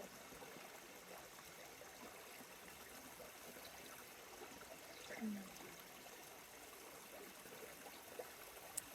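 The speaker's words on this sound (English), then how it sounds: "with the sound of this creek" Creek water flowing outdoors, a faint, steady trickling wash with no voices.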